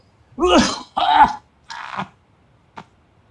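A voice imitates a cough: two harsh, throaty hacks, a shorter rasp, then a small final catch, all close and fairly loud.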